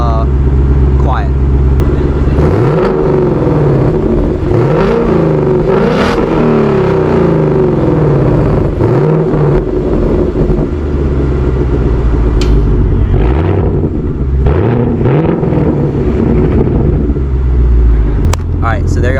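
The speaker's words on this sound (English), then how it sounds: "Right now it's in track mode, so I'll do a couple of revs of it in track" A 2022 Ford Mustang Mach 1 with a six-speed Tremec manual, in track mode, rumbles loudly at idle and is revved several times, each rise and fall clearly swelling over a deep, close exhaust drone.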